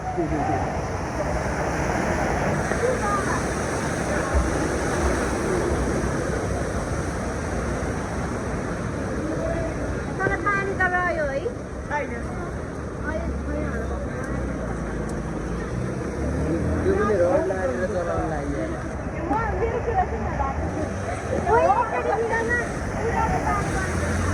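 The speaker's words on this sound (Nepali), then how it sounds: "यो पानी माथिबाट चल्न लाग्छ धेरै स्पिड चलाएपछि पानीको माथिमा चल्छन्" Vehicles speed through deep floodwater on a street in the Maitidevi area of Kathmandu, with a continuous rushing wash of water and engine noise and occasional voices under the steady splashing roar.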